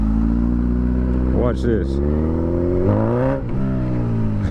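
A 1000cc liter-class motorcycle idles in first gear and gets two light throttle blips that make the engine note rise briefly, heard close beneath a man's speech.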